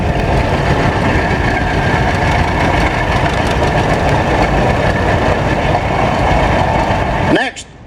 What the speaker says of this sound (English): Next we have a 1941 John Deere H, which is John Deere's smallest row crop.